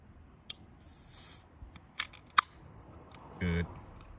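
A can of drink cracks open up close: a few sharp clicks and a short hiss, ending in a brief fizzy burst, with no talking over it.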